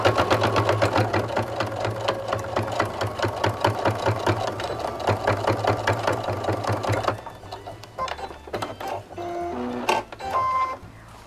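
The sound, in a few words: sewing machine stitching fabric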